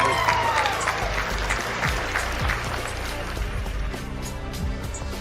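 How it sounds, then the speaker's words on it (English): Applause sounds for a woman during an online podcast anniversary call, a busy mix of clapping with music and crowd noise, loud and continuous with a faint voice threading through. "Give her a round of applause, please"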